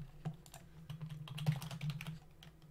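Quiet, irregular clicks of a computer keyboard as code is typed, scattered taps in uneven bursts over a low steady hum.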